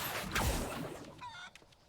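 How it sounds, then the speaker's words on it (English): Chickens cluck in the video game Hogwarts Legacy, a short burst of fowl calls close up, the sound fading toward the end. "Now you are a flying chicken."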